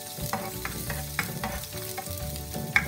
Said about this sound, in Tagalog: igisa naman natin ang ating sauce. Siyempre, una ang bawang.